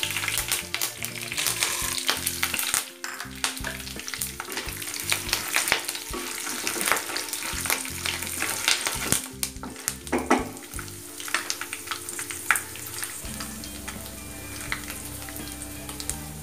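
Curry leaves crackle and sizzle in hot oil while tempering temple-style puliyodharai with chana dal and dried red chilli, loud and close, with stirring clatter throughout.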